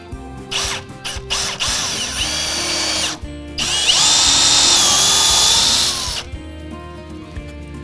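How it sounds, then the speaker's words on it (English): A power drill drives hidden fasteners through Porta Cumaru decking into a joist, short whirring bursts and ratcheting clicks building to a long loud high-pitched run, then stopping, with no talking. "I want to angle my drill in slightly towards the centre of the joist."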